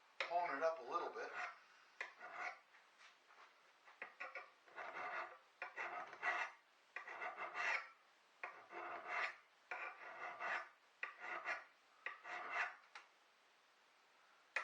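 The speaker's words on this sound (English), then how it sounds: "And I have a puck to hone it up a little bit." An axe blade honed with a sharpening puck outdoors, about a dozen rasping strokes in steady rhythm with short pauses between, close and clear, with no talk over them.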